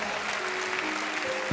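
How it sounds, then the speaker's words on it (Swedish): A studio audience at the Swedish TV talent show Idol Sverige claps and cheers in a loud, dense, continuous burst that fills the whole moment. "Ja, du hör jublet, George."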